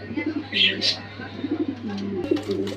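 Soft, low coos from white King pigeons at a pigeon farm murmur close by, with a couple of brighter chirps, under a steady low hum and a voice speaking.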